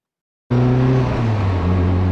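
A Honda Civic's engine starts up abruptly and idles with a steady, deep muffled rumble from its long exhaust with a muffler, loud and close.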